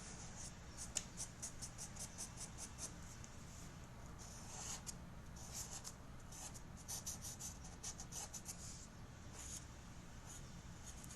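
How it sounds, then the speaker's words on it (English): A pen scratches across paper drawing repeated arcs for a Zentangle line pattern, soft close rhythmic strokes with brief pauses between them. "Keep drawing those arcs."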